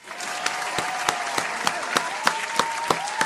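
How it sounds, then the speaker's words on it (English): Audience applause in a crowd, a dense, even wash of many hands clapping with a few sharper individual claps standing out at a regular beat, steady and fairly close throughout. "Round of applause."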